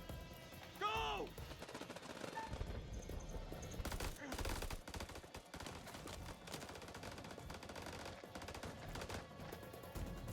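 Sustained gunfire from a firefight in The Dark Pictures: House of Ashes, with dense overlapping shots and rattling bursts over a constant rumble of music and effects, and a brief shout near the start.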